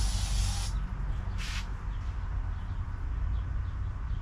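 An aerosol spray can hisses in two bursts, a longer one at the start and a short one a moment later, aimed at a flying insect in a workshop, over a steady low rumble of background noise.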